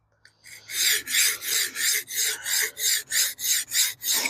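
A MagnaCut steel knife blade being drawn across a sharpening stone in about ten steady, even rasping strokes, close and clear with no talking.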